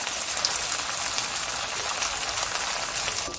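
Round potato chips fry in hot oil, a dense, even crackling hiss that stays loud and constant throughout with no talking.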